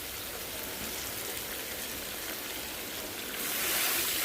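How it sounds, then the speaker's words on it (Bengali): Fish curry broth is poured into a hot pan of fried spiced cauliflower and potatoes. It makes a loud, steady hiss heard close up with no talk, and the hiss grows brighter and stronger toward the end. "এই যে ভাজি হয়ে গেছে, এখন ঝোল দিয়ে দেব।"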